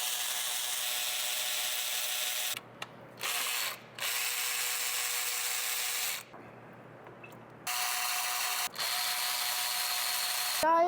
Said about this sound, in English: Now I'm working on getting this heat exchanger unbolted.